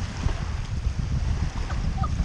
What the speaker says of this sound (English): Waves are kicking my ass.